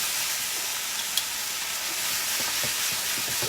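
Lo mein is stirred in a hot pan with soy sauce and sesame oil, a steady loud sizzle and hiss with soft scraping and tossing noises toward the end.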